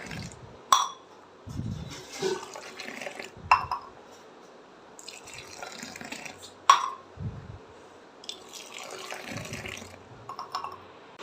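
Hot coffee with sugar is cooled by pouring it back and forth between vessels: splashy liquid bursts separated by a few sharp metallic clinks, fairly close and moderately quiet against a faint background.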